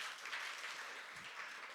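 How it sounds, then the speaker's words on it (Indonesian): Church congregation applause at a worship service, a soft, even wash of clapping that stays fairly quiet and continuous for the whole short stretch. "Oke berikan tepuk tangan Bapak Ibu."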